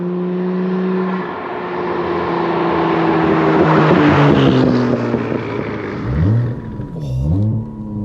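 Toyota JZX90 Mark II with its 1JZ engine revs hard, climbing to a loud sustained roar, then blipping in sharp throttle stabs with quick rises and drops near the end.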